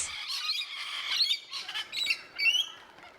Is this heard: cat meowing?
no